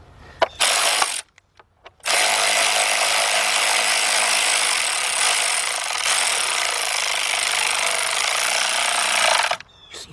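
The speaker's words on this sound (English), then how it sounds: "got my big bill ratchet, my 3/8 to 1/4 inch, and my T30 socket" A hand ratchet fitted with a 3/8 to 1/4 inch adapter and T30 socket clicks rapidly and continuously up close, a dense buzzing ratchet run with a brief pause early on, while working on a Volkswagen/Audi engine.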